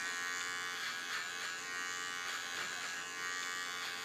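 Electric hair clippers buzz steadily at close range while cutting an undercut into ultra-thick curly hair on the sides of a woman's head, with slight pulses as the blades move through the hair.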